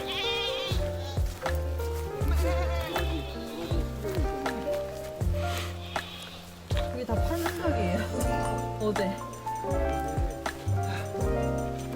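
A goat bleats repeatedly at a rural farm experience in Paju during light rain, the calls mixed with a person's voice imitating the bleats over loud background music and talk.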